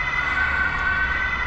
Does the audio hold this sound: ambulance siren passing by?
yes